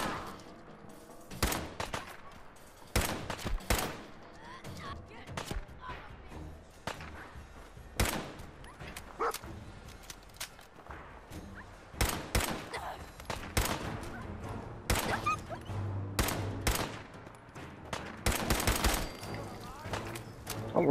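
Gunfire from the game Fallout 4: a long run of sharp, scattered shots and short bursts, some loud and close, others fainter, spread through the scene with steady game ambience beneath.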